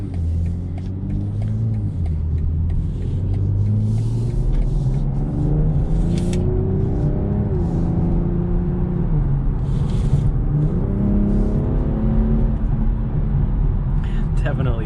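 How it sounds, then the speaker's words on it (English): A turbocharged 3.0-litre inline-six in a 2021 BMW M440i pulls hard from inside the cabin, a steady loud engine rumble rising in pitch through several gear stages. "Definitely this car doesn't have any issues getting up to speed."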